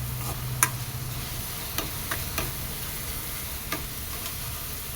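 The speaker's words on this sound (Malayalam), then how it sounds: "പിന്നെ ഇത് നല്ലോണം ഒന്ന് കുറച്ചൊരു കളർ ചേഞ്ച് ആവുന്ന വരെ നമുക്ക് വാട്ടിയെടുക്കാം" Ivy gourd leaves sauté in a pan for a Kerala-style stir-fry, giving a soft, steady sizzle broken by occasional light ticks and clinks of a spatula, over a low background hum and without talking.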